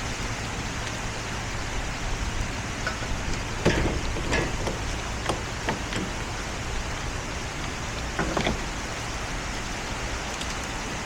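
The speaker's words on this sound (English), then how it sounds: "Well, it's raining." Rain falls steadily at an outdoor site cleanup, making a constant soft hiss with a few scattered louder taps and knocks breaking through the wash.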